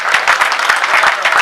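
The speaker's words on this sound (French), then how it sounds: "Est-ce qu'on peut applaudir pour nos parents?" Wedding reception guests applaud together in a dense, steady burst of clapping that fills the room throughout, with a faint voice underneath.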